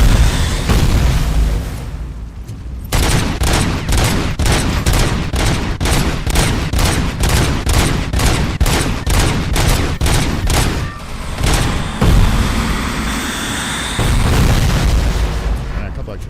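Gunshots in the RoboCop video game on PS5, a rapid, evenly spaced series of loud booming shots over a dense, rumbling game soundtrack, with a short break and a few heavier blasts near the end.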